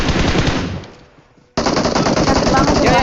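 Rapid automatic gunfire in a shooter video game, loud and close, trails off into near silence before a sudden second burst of sustained firing resumes.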